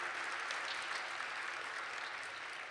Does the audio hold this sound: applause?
yes